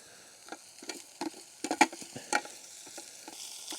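Sausage and onion frying in a pan with mixed herbs, heard as a soft steady sizzle broken by scattered stirring scrapes and clicks, close and fairly quiet with no talking.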